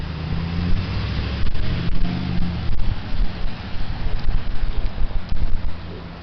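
Heavy wind buffets the microphone in loud, irregular gusts, a rough low roar swelling and dropping throughout.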